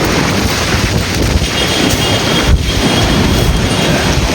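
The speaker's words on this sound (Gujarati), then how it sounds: "આ પવન એટલો આવે છે ને." Strong storm wind roars continuously and loudly, buffeting the microphone with a dense, unbroken rush and a brief gust near the middle, with no voices.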